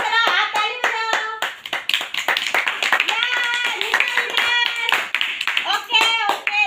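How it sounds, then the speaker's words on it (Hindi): A group of children claps hands during a classroom game, with quick, uneven claps at first and a denser, looser patter later, mixed with children's voices and chatter. "जल्दी करो, आप ताली बजाओ।"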